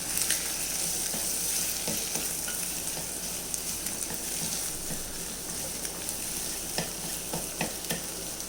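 A pan of egg curry with drumstick leaves hisses and sputters as it is stirred, with scattered spoon taps and scrapes becoming more frequent toward the end over a continuous soft sizzle, without speech.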